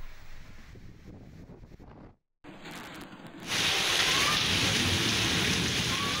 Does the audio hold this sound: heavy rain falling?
yes